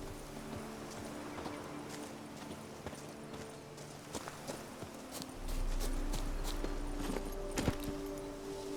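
Horse hooves clop steadily in The Witcher 3: Blood and Wine, a rhythmic trot of hollow knocks close by over a low ambient hum, with a brief whinny-like tone and no talking.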